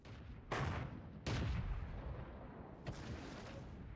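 In World of Tanks, a tank gun fires three sharp booming shots, each followed by a rolling, fading echo against a low background rumble.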